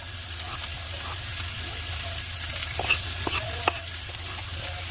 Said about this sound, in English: Saute our garlic and onion together